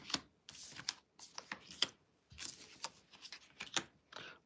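A deck of cards being shuffled by hand, several quick riffling bursts separated by short pauses, close and fairly quiet with no talk.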